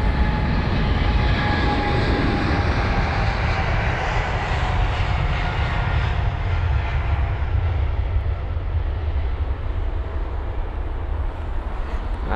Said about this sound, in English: it's BA67, the flight number of this British Airways 777-300ER on departure, heading to Philadelphia